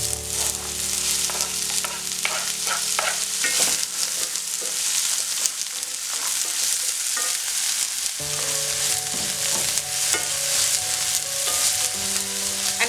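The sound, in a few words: onions frying in oil in a pot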